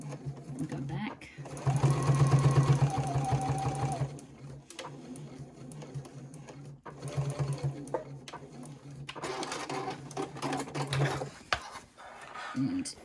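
A sewing machine stitches a fabric pouch seam in two bursts, the first longer and louder, the second steadier, with a person talking between and over the stitching.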